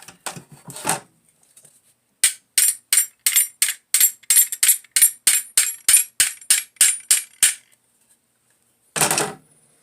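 A quick run of sharp metallic taps as a big hammer drives a pin from a Chiappa Citadel M1911 .22LR pistol, about fifteen evenly spaced strikes, bright and close, with a couple of separate clinks before and after.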